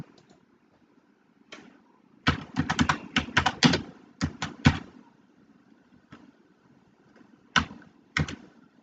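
Bursts of quick computer keyboard typing, close and crisp, with pauses between flurries and a few isolated key taps near the end.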